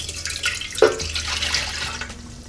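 Warm water poured for bread machine pizza dough, a close running trickle with a brief splashy burst near the start, then a steady flow continuing to the end with no talk.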